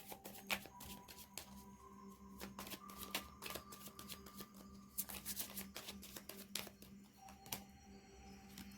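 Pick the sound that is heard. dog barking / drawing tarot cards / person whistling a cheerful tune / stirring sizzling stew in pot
drawing tarot cards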